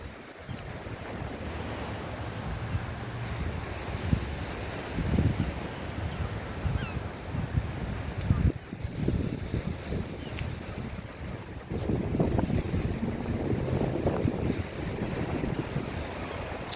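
Waves breaking and wind blowing on a well-maintained sandy beach at Clacton Pier, Essex, England: a steady rush of surf with gusty wind noise on the microphone, swelling louder in places, no talking.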